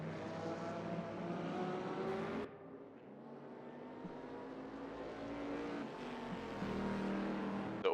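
Several race cars drive around the Imola track in a GT series racing game, their engines droning steadily, briefly dropping away mid-stretch before building again, with no talk over them.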